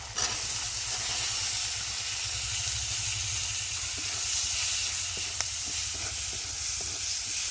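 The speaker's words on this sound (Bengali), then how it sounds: "এই মশলাটা সুন্দর করে ভেজে নেব। এবার দিয়ে দেবো মটরশুঁটি।" Spices and green peas frying in ghee in a pan, a steady loud sizzle and hiss throughout with occasional faint stirring clinks.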